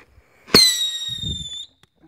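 A small handheld firework pops off with a sharp burst and then a long, bright whistling squeal that holds for about a second before cutting out, with faint rustling underneath.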